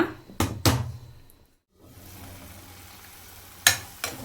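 Onions frying in a pan for chole masala on medium flame: a steady, quiet sizzle runs throughout, broken by a few sharp knocks of utensils against the pan near the start and end, with a brief silent gap in the middle.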